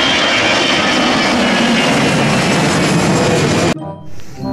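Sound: toy Batik Air A330 passenger airplane flying sound

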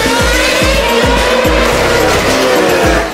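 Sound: race car with 980 horsepower engine driving past

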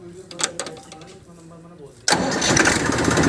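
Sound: Massey Ferguson 1035 DI tractor engine starting

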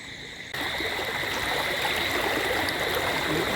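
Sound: floodwater flowing

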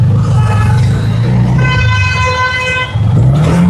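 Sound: car horn honking

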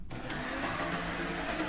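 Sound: household vacuum cleaner running

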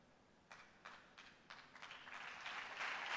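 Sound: church congregation applauding

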